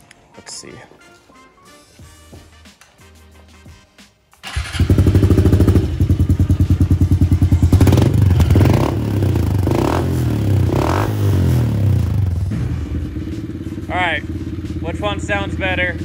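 A 2020 Honda CRF 110 dirt bike fitted with a new Bills exhaust pipe starts up after some clatter and handling noise, then idles and revs loudly nearby with a raspy, popping exhaust note, dropping to a steadier idle near the end.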